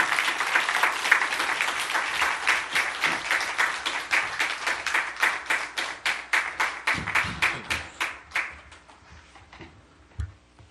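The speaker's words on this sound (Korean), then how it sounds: "박수로 모시도록 하겠습니다." A church congregation gives a pastor a welcoming round of applause, sustained rhythmic clapping that thins and fades out toward the end.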